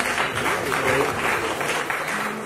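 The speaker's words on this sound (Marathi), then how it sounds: "अरुणजींसाठी एकदा जोरदार टाळ्या द्यायला" An audience gives a burst of loud, dense applause at a Marathi movie music and trailer launch event, steady clapping close up for a couple of seconds.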